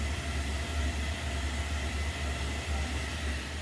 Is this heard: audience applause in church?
no